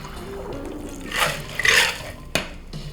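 A vodka cocktail made with Absolut Watermelon is poured straight into a glass already holding ice, giving a soft rushing pour followed by a sharp clink of ice.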